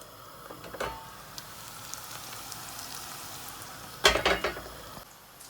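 A steady, quiet sizzle of food frying in a pan for vegetarian lasagna, with a couple of brief clinks and scrapes of utensils.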